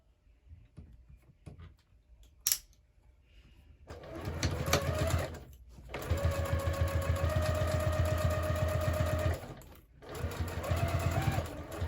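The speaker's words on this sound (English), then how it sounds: "now we're just going to go ahead and sew both of these at 3/8 inch seam allowance." Sewing machine stitching two clipped bag pieces at a 3/8 inch seam allowance, running in two long steady bursts with a brief pause between, after a few soft handling clicks; no talking.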